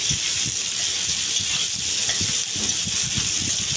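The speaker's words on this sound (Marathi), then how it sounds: "जास्ती नाही, 5-6 मिरच्या यायची. असं चांगलं लाल भाजून घ्यायचं." Red chillies fry in a pan for an egg curry, a steady, quiet sizzle with faint stirring taps, close and alone, with no voices.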